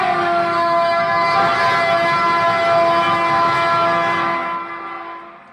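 A train passing, heard as a loud sustained horn-like tonal drone over steady rumble that holds for several seconds, then fades at the end.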